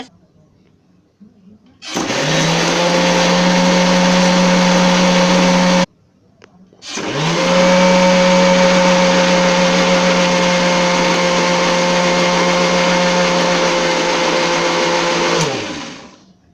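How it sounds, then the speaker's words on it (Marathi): An electric mixer grinder grinds green ivy gourd (tendli) chutney with lemon juice, a loud steady whine in two long runs split by a brief pause, starting and stopping abruptly. "आता हे मिक्सरला मी बारीक करून तुम्हाला दाखवते"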